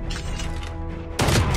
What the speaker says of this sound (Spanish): Aquí escuché disparos